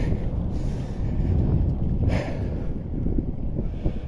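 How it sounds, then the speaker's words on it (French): Steady wind blowing outdoors buffets the microphone with a continuous low rumble and rushing noise, with no voices. "Mais le vent, il est magnifique."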